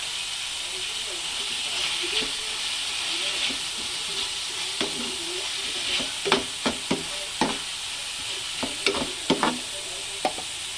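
Bitter gourd and eggplant fry in a pan with a steady sizzle and hiss throughout, while a utensil stirs them with clustered scraping clacks that grow louder and busier in the second half.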